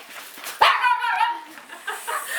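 A single sharp dog bark close by during obedience training at a dog daycare, followed by a brief whiny yelp and quieter rustling.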